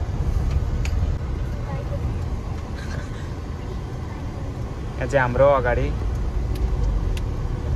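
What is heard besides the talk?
traffic on the East-West Highway, dairy truck ahead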